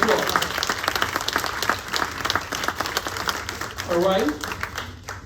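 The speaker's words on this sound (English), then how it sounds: "Give them a round of applause." Audience at a live jazz club concert breaks into applause, many hands clapping steadily while someone speaks over it near the end.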